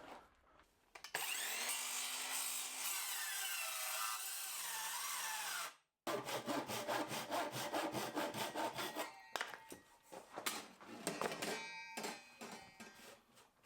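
Hand saw cutting scrap timber at acute angles, a loud close rasping stroke that pauses briefly, then fast rhythmic back-and-forth sawing strokes until the cut finishes.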